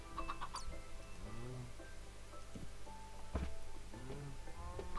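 Chicken clucks in Minecraft repeat in short bursts over a steady background hum, a few close and distinct, others softer, with no talking.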